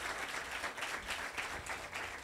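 An audience applauds for judge Dickens Prince-Civil, a dense, steady round of clapping from many people that stays fairly loud across the whole short stretch.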